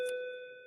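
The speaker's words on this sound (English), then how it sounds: "It's the lunch bell." A school lunch bell gives one bright, ringing ding that slowly fades out in a quiet classroom, faint and alone.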